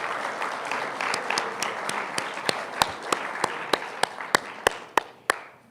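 An audience gives student presenters at the 2014 Innovation Summit a round of applause. Dense clapping fills the room and then thins to a few loud, scattered claps as it dies away.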